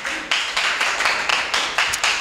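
A church congregation claps together in a steady rhythm of about eight loud, even beats, close and sharp, with no talk over it.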